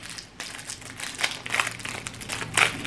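Plastic wrapping on a small package from a Temu haul crinkles and crumples continuously at close range, with a few sharper bursts of rustling as the pack is worked open.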